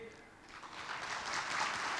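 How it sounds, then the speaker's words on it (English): An audience applauds after a speech by the RI President, the clapping swelling from faint to a fuller patter, with a voice speaking over it. "A big round of applause for RI President for the very insightful and inspiring speech."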